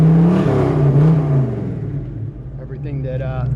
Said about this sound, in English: Beautiful sounding exhaust.